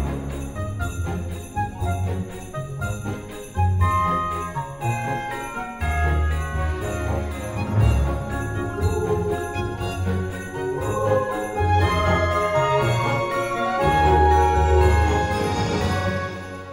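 A layered instrumental arrangement of a Zelda Wind Waker theme on harp, chiming bells, piano and woodwind plays continuously, melodic and full, with soft percussion beneath.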